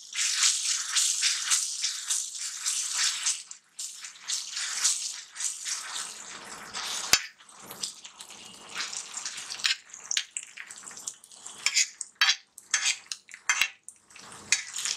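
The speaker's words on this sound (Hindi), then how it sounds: "हमारे अदरक लहसुन का भी कच्चापन जाना चाहिए, इसलिए हमें इसे काफी अच्छे से भूनना है।" Ginger and garlic sauté in a generous amount of oil for khaskhas onion sabzi, giving a close, bright sizzle broken up by rattling stirs and metal scrapes against the pan, with a few sharp clinks and short pauses.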